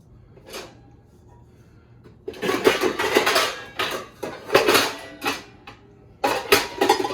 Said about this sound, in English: let me get my old pudding pot